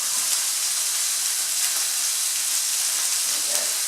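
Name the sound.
chopped onions sautéing in hot casserole dish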